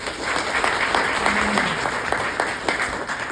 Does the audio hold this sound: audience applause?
yes